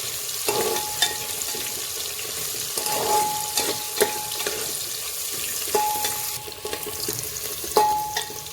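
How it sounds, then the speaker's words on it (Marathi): Thinly sliced onions for pulao sizzle in a pan with a constant hiss, stirred by a spoon that gives occasional scrapes and ringing clinks against the metal, close up and without talk. "कांदा लाल करून घेऊया छान."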